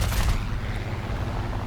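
The P-63 C-5 Cobra's .50 cal machine guns fire in War Thunder, a short, fast rattling burst over a heavy engine drone.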